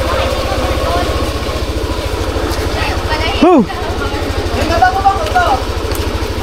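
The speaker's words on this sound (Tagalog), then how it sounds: "Ang unang makakaangkas sa ating motor." A motorcycle engine idles with a steady low pulsing throb throughout, while people talk nearby and a brief exclamation cuts in.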